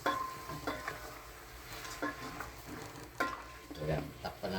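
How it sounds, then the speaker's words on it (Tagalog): Ingredients for Visayan pochero sautéing in a pan, with a steady sizzle and the scrape and clink of a utensil stirring against the pan, close and moderately loud. "Kailangan igisa natin ng maayos para masarap."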